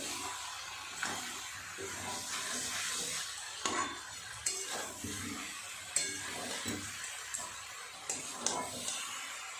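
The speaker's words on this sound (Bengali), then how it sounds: "খুব ভালো করে সয়াবিন আলু আর মশলা একটু কষিয়ে নেব" Soybean chunks, potato and spices sautéed in a pan give a steady, moderate sizzle with intermittent scraping and clinking of a spatula against the pan, the stirring strokes coming in irregular bursts.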